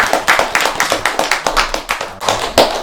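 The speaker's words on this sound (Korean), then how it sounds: "그분을 위해서 한번 박수." A temple congregation claps together for someone, a burst of roughly a dozen quick, fairly close hand claps in an uneven rhythm with no voices over it.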